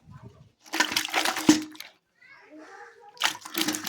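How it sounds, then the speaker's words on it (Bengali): Live koi fish (climbing perch) splash and thrash in water inside a kitchen just before cooking, with bursts of sloshing and spattering at intervals and a voice talking between them. "দেখো মাছগুলো লাফাচ্ছে।"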